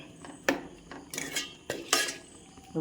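A utensil clinks and scrapes against a pot while thick yogurt curry (kalan) is stirred continuously, giving irregular metallic knocks over a quiet background.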